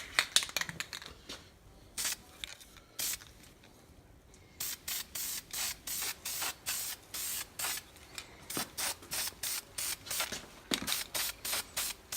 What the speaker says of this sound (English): getting ready to go ahead and throw some high temp paint on this